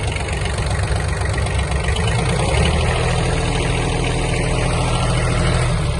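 A Kubota B1-17 Japanese mini tractor engine runs steadily, a loud, close, unbroken mechanical drone with no one speaking.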